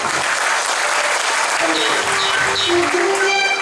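Live audience applause at a Tamil stage music show fills the space with dense, steady clapping that holds at full level for several seconds, with faint crowd noise and a few tonal traces of stage sound underneath.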